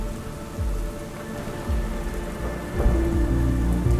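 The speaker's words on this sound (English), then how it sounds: "Here comes the rain." Steady rain falls on a lake in the woods of the Lake District in autumn, a dense close patter on water with low rumbles of thunder, and no voices.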